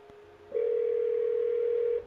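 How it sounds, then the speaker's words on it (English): A telephone in the game Memento sounds one steady electronic tone for about a second and a half, clean and close, with quiet background before and after. "Phone ringing."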